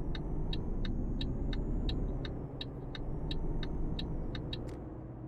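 Truck engine in Euro Truck Simulator holding a steady low rumble, with a regular series of short high ticks or clicks riding above it throughout.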